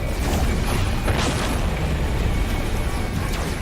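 Missile launcher fire from a starship battling grade 2 Sentinel ships in No Man's Sky, a steady roaring barrage of booming blasts and bursts that fills the clip loudly with no letup.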